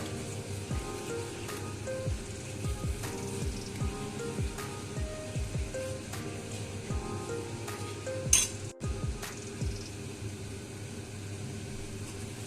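Cashew paste is stirred into roasted cauliflower in a hot pan: a steady sizzle with repeated soft scraping strokes of the spoon and one sharper clatter against the pan, close up with no voices.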